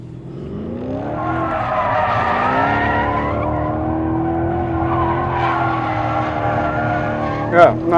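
A Lamborghini Urus SE SUV driven hard around a lap, a steady engine drone with rising and falling pitch and long tire squeals through corners, fairly loud and close throughout.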